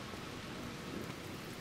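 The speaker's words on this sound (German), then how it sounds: "Es regnet." Rain falling in the video game Garden Life, a dense steady hiss heard alone and close for the whole short stretch.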